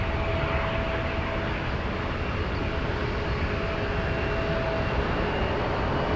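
A Boeing 747 rolls down the runway at San Francisco airport, a steady distant broadband roar of jet engines that stays even and continuous throughout, with no talk over it.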